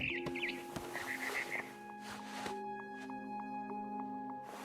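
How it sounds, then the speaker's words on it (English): Barn swallow chirps from the What Remains of Edith Finch video game, a short run of repeated high tweets over a steady tonal game soundscape with low hum, moderately quiet. "Then I heard chirping outside my window. It was a barn swallow going back to her nest."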